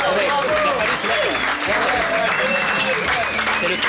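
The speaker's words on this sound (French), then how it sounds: "Bravo, on l'applaudit." A television studio audience applauds a singer in a sustained, even wash of clapping, with people talking and exclaiming over it.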